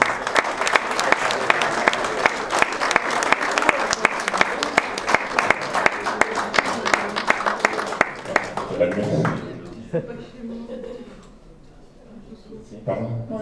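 A nursing-home audience applauds a regional beauty queen at a Miss Roussillon 2022 visit. Steady, dense clapping holds for about nine seconds, then fades out into quieter room sounds and a few stray noises.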